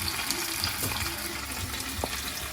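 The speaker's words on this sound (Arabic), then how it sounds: "غادي نقلي الثوم" Garlic frying in a pan: a steady, soft crackling sizzle runs throughout, with scattered small pops and light stirring noises, close and unbroken by speech.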